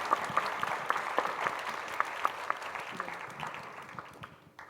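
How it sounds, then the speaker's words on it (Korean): An audience at an environmental education society's anniversary international conference gives a sustained round of applause, steady clapping that gradually fades out toward the end. "박수 한번 보내주셨으면 감사하겠습니다"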